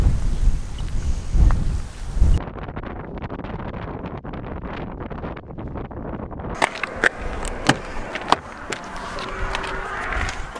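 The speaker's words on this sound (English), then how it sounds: "it's a consistent 10 to 15 mile an hour wind. So this will be a good little test of the microphone" A steady 10 to 15 mph wind buffets a microphone outdoors on a levee walk near Sacramento, making a constant low, blustery rumble. Scattered sharp clicks and taps come through near the end.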